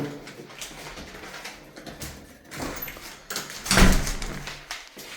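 Storm door and front door of a house being handled, with rattling and shuffling that build to one loud thud or slam near the end, heard close and without talk.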